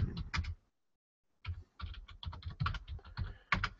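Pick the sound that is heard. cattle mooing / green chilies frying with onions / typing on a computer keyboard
typing on a computer keyboard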